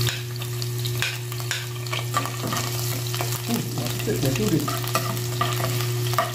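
Bangus (milkfish) sizzles as it fries in hot oil, with a steady crackling hiss, occasional scraping stirs, and a low hum underneath. One brief spoken word is heard.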